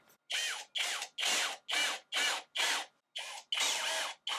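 Screws driven into a wooden joint with a power driver, heard as eight short whirring bursts of roughly half a second each in steady succession, close and fairly loud, with no talking.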